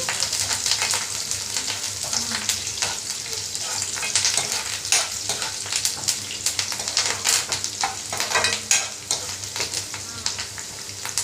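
Onions and red chillies frying in hot oil, a loud, busy sizzle with frequent crackles and stirring scrapes throughout, close up and free of speech.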